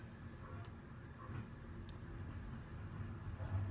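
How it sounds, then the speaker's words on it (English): A recycling truck passes by outside a home in Miami, a low, steady engine rumble heard from a distance under room noise, rising slightly toward the end. "The recycling truck is going by."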